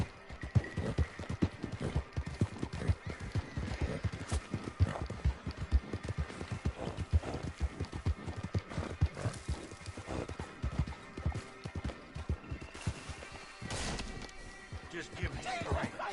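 Horse hooves clip-clop in a fast, steady galloping rhythm in Red Dead Redemption 2, close and continuous, with a player's voice talking over the game sounds.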